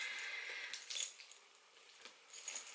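A bunch of car keys on a bag strap jangles softly, giving light metallic clinks and rattles in small bursts, close by and quiet.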